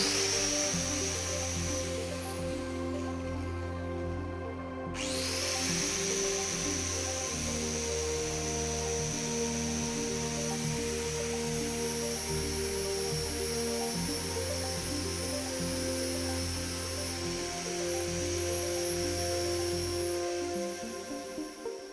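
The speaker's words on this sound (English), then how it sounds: "plug in this 800-watt angle grinder" An 800-watt angle grinder runs continuously at a steady high-pitched whine with a broad hissing roar, loud and close, its tone shifting briefly near the start before holding even to the end.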